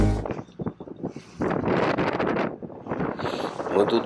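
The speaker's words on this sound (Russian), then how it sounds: "Мы тут мокрые, пипец, волны, ветер, брызги." Wind buffets the microphone and waves splash around a boat while fishing in spring, loud and gusty, with people talking over the noise.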